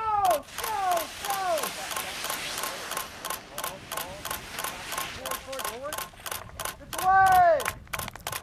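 A still camera shutter fires in rapid, steady clicks, close and loud, while excited voices talk and shout over the burst during a launch toward the edge of space.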